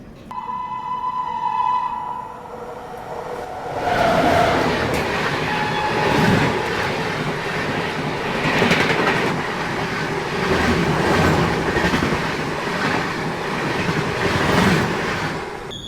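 A passenger train runs along the rails with a steady, loud rumble and rattling wheel noise; after a quieter opening the sound swells and stays full as a second train overtakes alongside.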